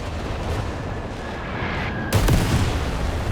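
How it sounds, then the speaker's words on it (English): Artillery shells pounding and flattening a bridge in Company of Heroes 3, with a dull rumble of battle that gives way to a sudden loud, heavy impact blast followed by a rolling, sustained roar. "Next bit of artillery flattened it."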